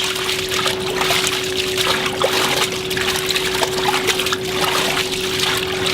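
Cooked udon noodles being washed in cold water, a steady close splashing and trickling, loud and continuous throughout.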